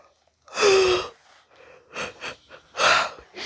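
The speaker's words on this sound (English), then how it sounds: "Human, stop yawning." Several breathy, drawn-out yawning gasps come in bursts, the first long and loud with a vocal tone, then shorter huffs and a final strong exhale, close to the listener.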